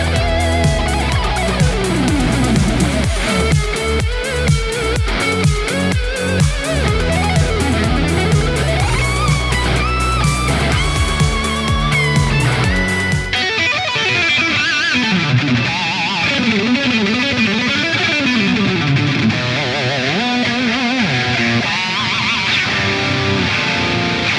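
A heavily distorted electric guitar through a Jeff Loomis Devil's Triad metal drive pedal plays chugging riffs and lead lines, thick and saturated, switching to a brighter, more spacious tone with reverb partway through.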